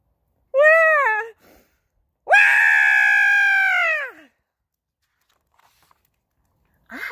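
A voice imitates a baby crying, giving two drawn-out wailing cries, a short one followed by a longer, louder one, with near silence between and after.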